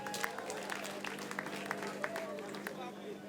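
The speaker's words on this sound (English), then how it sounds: "Please put your hands together for the DJ" A party crowd claps for the DJ, scattered and fairly faint hand claps sounding over a low hum and background chatter, with a voice talking amid the noise.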